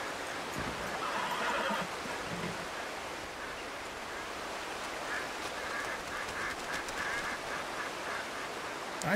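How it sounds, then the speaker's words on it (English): Ducks quack in the Red Dead Redemption 2 game world amid a busy outdoor ambience, with a horse whinnying and hooves clopping nearby; the calls are moderate and scattered over several seconds. "I hear ducks."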